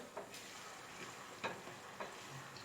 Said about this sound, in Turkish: arkadaşlar ben soğanımı kavurmaya başladım